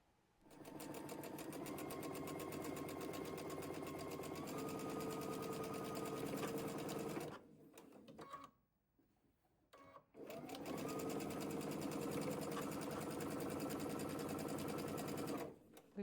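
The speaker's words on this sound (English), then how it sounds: "So usually what I do is I will sew this side, and then I will go ahead and sew the opposite side." A sewing machine stitching quilt seams runs in a loud, steady whir from close by, stops for about two seconds, then starts again and keeps running at an even pace before cutting off.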